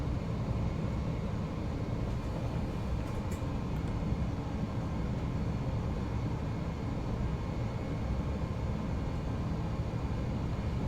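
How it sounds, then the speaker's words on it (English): Airbus A380 airliner in the Fly By Wire flight simulator beginning to taxi, a steady broadband engine rumble with low drone, constant and loud throughout, no talking. "So, large aircraft, takes a little while to get it moving."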